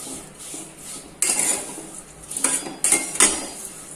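Metal spoon scraping and clinking against a pan as vermicelli roasts in ghee for a sweet dish, quiet sizzling broken by several sharp, close stirring knocks in an irregular rhythm.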